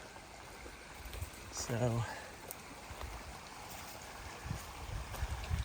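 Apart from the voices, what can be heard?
shallow river flowing over rocks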